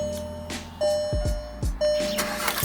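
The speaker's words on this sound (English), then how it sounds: "we're going to start the car." A car engine cranks and catches in short bursts, with a few quick starter pulses and beeping chimes over a low idle rumble, close and fairly quiet.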